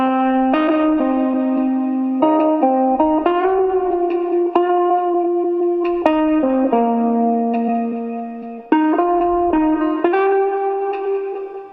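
Soulful guitar for a lofi beat, processed with distortion, reverb and chorus-like effects, plays a slow sequence of sustained chords and notes with smeared, echoing tails and no talking.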